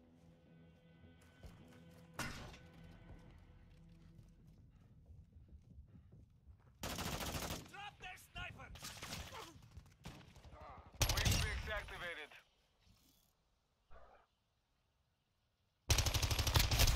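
Enemy gunfire in a video game comes in several loud, separate bursts of rapid shots, broken by quieter gaps with faint game sounds and a brief pause near the end before a final burst.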